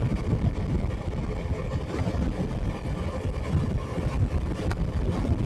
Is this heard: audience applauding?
no